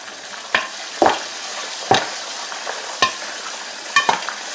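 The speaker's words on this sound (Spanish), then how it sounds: "Podéis escuchar cómo empieza a reventar la canchita" Peruvian canchita corn kernels toast in a pan over medium heat, giving a faint background sizzle broken by about five sharp, separate pops spaced roughly a second apart.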